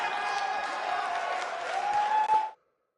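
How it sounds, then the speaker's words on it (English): A large crowd cheers and applauds in a WWE 2K19 wrestling arena at a BCW event, a dense continuous roar of clapping and voices that cuts off abruptly near the end. "Record-setting crowd here for BCW tonight"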